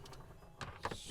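A KGM Torres Hybrid 2026 power window lowering, a faint motor whir with a couple of soft clicks and a thump, heard close in a quiet cabin.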